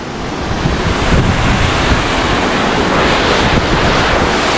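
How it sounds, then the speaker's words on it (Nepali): Powerful surging water at the Hattichahara waterfall on the Charnawoti river in Dolakha throws heavy spray: a loud, unbroken roar with gusty buffeting on the microphone, close and continuous, with no voices. "कस्तो छाल फाल्यो क्या"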